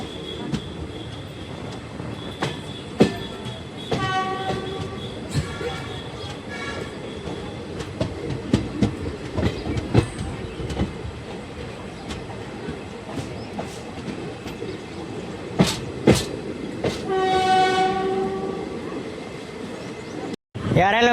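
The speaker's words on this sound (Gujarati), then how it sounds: "તો પાનેલીથી ટ્રેન નીકળી ગઈ છે" Passenger train 19571 from Jetalsar to Porbandar pulls out of Paneli station, wheels clacking over rail joints with sharp squeals and screeches, carriage noise all around, with occasional voices.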